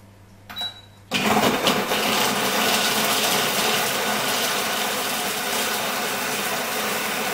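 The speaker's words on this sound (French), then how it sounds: "Programmez votre appareil 30 secondes, vitesse 6." A Cuisio Pro kitchen robot set to speed 6 starts after a short beep and runs with a steady, loud motor whir that continues without a break.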